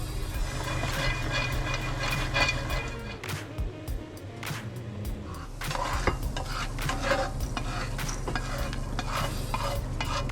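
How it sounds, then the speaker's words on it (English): Pine nuts toasting in a skillet, with a soft sizzle under repeated scraping and stirring clatter, busy and close throughout. "Drop the pine nuts in. Let them get some nice toasted color."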